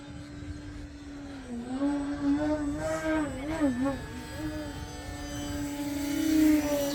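A QQ Yak 55 radio-controlled aerobatic model plane flies at a club field, its small engine droning loudly and steadily, the pitch wavering and swooping as it throttles up through a downslope in a loop.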